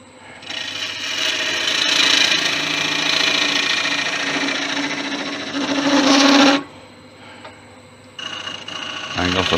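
A 5000-year-old bog oak piece is shaped on a woodturning lathe, giving a loud continuous rasping whir for several seconds that cuts off abruptly, then resumes more faintly near the end.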